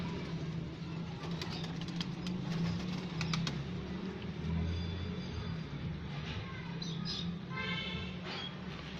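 A young hen pigeon gives low, soft cooing murmurs, partly buried under a steady, noisy background with faint clicks.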